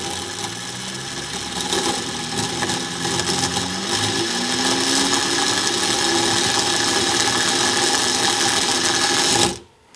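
Bedini motor powered by a 7 amp hour, 12 volt gel cell, spinning up with a rising whine that settles into a steady, loud mechanical buzz before cutting off abruptly at the end.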